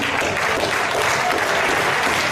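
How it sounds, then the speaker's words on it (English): A big round of audience applause for new crown ambassadors at a business event, dense and continuous throughout, fairly loud, with no voices standing out. "Give yourself a very, very, very big round of applause, ladies and gentlemen"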